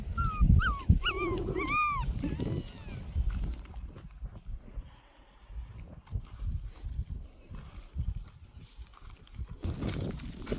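Maremma sheepdog puppies let out a few short, high, rising whimpers early on, close by in a shaded spot near grazing sheep, followed by rustling and movement noise.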